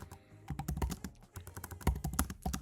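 Keys clatter on a computer keyboard in quick, uneven bursts of close taps, with a brief pause partway through and no talking.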